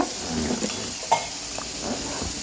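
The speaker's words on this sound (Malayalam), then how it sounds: "വെളിച്ചെണ്ണ ചൂടായി കടുകിട്ടു കടുക് പൊട്ടുമ്പോൾ" Mustard seeds in hot coconut oil under a small covering pot, a soft continuous sizzle with a few light pops and a faint metallic clink, no talking.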